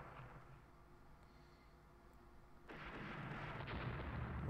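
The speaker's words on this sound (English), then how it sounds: "My fleet's improved gunnery is showing. I'm hitting them a lot more than they're hitting me." Naval gunfire in the Rule the Waves warship battle game: a low, rumbling barrage that swells abruptly partway through into a denser, louder wash of distant cannon fire.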